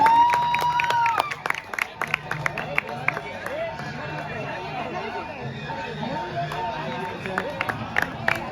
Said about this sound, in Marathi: सर्वांनी जरा जोरदार टाळ्या वाजवायच्या त्यांच्यासाठी.